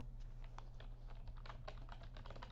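Rapid, uneven typing on a computer keyboard sounds as a flurry of quiet key clicks over a low steady hum, with no speech.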